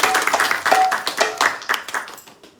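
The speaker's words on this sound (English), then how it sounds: "One big clapping for Anuradha." A small group at a Radharani devotional gathering in New York claps for a birthday, producing a loose, uneven patter of individual hand claps that rises early and then gradually thins out and fades.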